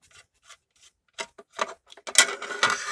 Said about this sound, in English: Got those triangular screws, got the triangular screwdriver out.